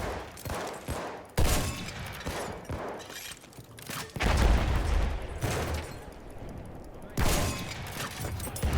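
Video game gunfire during a tank battle, loud bursts of shots and heavy impacts in several clusters, dense rattling volleys between sharper booms, fairly close with no clear talking.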